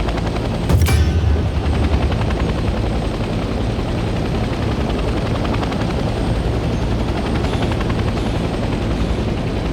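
Continuous loud rotor wash and engine drone from a helicopter flying in the Vietnam-era war game Hell Let Loose. A sharp crack stands out near the start, then the chopper hums on steadily and close.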